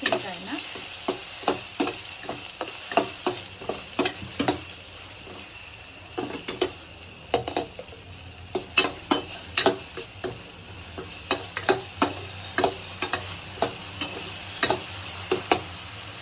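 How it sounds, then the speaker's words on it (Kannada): Spices tempering in hot oil in a pan for talipattu crackle and pop in quick irregular bursts over a continuous sizzle, punctuated by light scraping of a spoon. "ಇಲ್ಲಿ ಬಾಣಲೆ ಇದೆ ಸೊ ಇದಕ್ಕೆ ನಾನು ಒಗ್ಗರಣೆ ಹಾಕ್ಕೊತೀನಿ"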